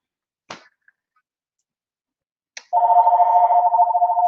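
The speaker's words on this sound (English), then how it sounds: "Don't mind the phone, like some weird person always calls this time." A landline or desk phone rings indoors in a steady, continuous electronic trill after a couple of short clicks, loud and close, with no talk over it.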